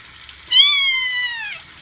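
A single high, drawn-out meow from a two-week-old kitten, thin and clear, rising then slowly falling, close by over faint background noise.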